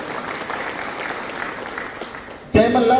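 Applause fills a general meeting of the Jai Malhar Kranti organisation in Phaltan, a steady crowd clapping for about two and a half seconds before a voice starts speaking.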